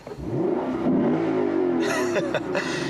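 A 2016 Lexus GS F V8 sits in park in sport mode as its engine is revved toward its 7,000 RPM redline, a loud, close rising roar that climbs, holds, then drops with sharp throttle blips near the end.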